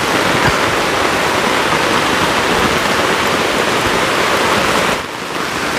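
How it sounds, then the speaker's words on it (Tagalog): Heavy rain pours down steadily in a forest near a hilltop, a loud, dense hiss that briefly dips near the end before resuming, with no voices. "Lumakas lalo ang ulan, mga kababayan ko."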